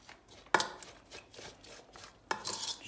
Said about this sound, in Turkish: Karıştıracağım güzelce.